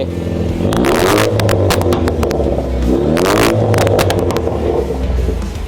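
A 2018 Ford Mustang engine fitted with a full Drift exhaust revs loudly and close by, rising and falling in two strong throttle blips over a steady rumbling idle.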